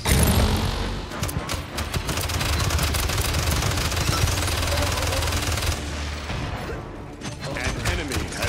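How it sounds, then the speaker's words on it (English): Rapid gunfire in the Paladins shooter game, a dense continuous burst of automatic shots rattling close and loud for most of the stretch before easing briefly near the end. "God, they're firing on us!"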